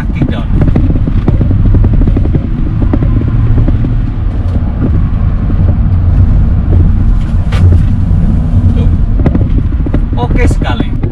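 A Hyundai Stargazer with a CVT/IVT gearbox accelerates hard on kick-down, the loud cabin engine drone and road rumble swelling continuously while someone talks over it.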